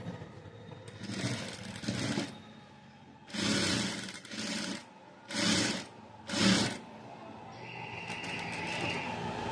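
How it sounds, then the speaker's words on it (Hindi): Sewing machine stitching blouse fabric, running in four or five distinct bursts of rapid mechanical whirring separated by brief pauses, fairly close and alone with no talk. "अब हम इस वाले को भी ऐसे स्टिच कर देंगे।"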